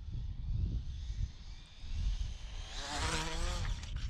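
A Wltoys 144001 RC car racing past at speed, its high electric motor whine swelling and sweeping in pitch as it nears, with rushing tire noise over outdoor background rumble.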